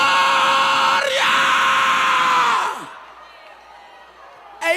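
A church congregation shouts and screams together during worship, a loud, sustained crowd roar that breaks off abruptly, leaving a quieter stretch before a brief final burst.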